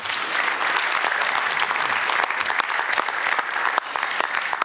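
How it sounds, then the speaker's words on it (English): A conference audience applauds a panelist at a European geopolitics and enlargement event, steady dense clapping that stays loud and even throughout without a break. "please a round of applause for Milica Delević"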